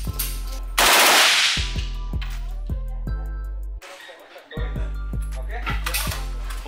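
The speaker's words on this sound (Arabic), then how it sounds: "بتجرب الحين السلطان هذا اللي هو الام 16 النسخة الإماراتية معدلين عليها شركة كاراكال" A Caracal-modified M16 rifle, Emirati version, fires evenly spaced loud single shots in two strings separated by a short pause, each crack followed by metallic ringing, with a brief sharp blast and a voice near the start.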